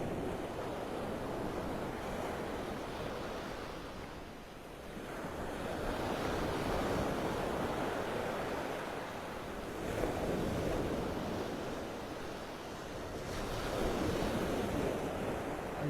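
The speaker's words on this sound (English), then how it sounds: "Waves. They're just hypnotizing." Stormy surf rolls in continuously along a beach on a windy morning, with broad swells of crashing waves rising and falling every few seconds, no voices, and wind buffeting the microphone.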